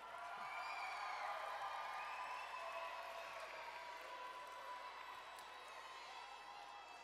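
A large stadium crowd applauds and cheers in a steady, dense wash of clapping that holds loud throughout, easing slightly toward the end with no break.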